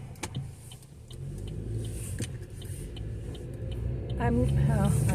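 A car drives along a road with a steady engine rumble and road noise from inside the cabin, rising toward the end, while a person talks over it.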